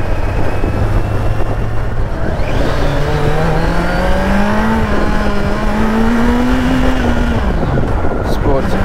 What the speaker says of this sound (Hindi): फोर्थ गियर में 58 पे चल रही है 900 वाली गाड़ी